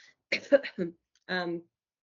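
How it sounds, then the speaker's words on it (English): A few short, quiet coughs or throat-clearing bursts from someone recovering from an upper respiratory infection come in quick succession, followed by a brief voiced sound, with silence around them. "Sorry for the cough."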